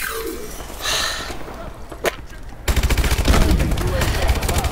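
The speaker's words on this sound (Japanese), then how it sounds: "謎の爆発、ありがとうございます" Sudden explosion in the video game Call of Duty: Advanced Warfare, then dense rapid gunfire bursts rattling on loudly, with a sharp crack just before the blast.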